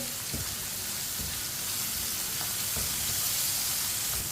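Fried ridge gourd (turai) being stirred in a pan with fresh coriander, giving a steady close sizzle broken by a few soft scraping strokes of a spoon against the metal.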